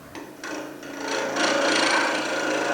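A tungsten carbide tipped bowl gouge cuts into a hard resin and gumnut tool handle on a lathe, giving a close, steady scraping rasp that grows louder and continuous after short initial touches.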